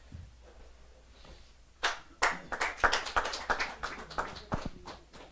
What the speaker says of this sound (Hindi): जरा जोरदार ताली के साथ इनका अभिनंदन करें, स्वागत करें।